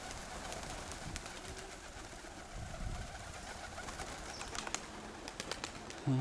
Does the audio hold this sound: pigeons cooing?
yes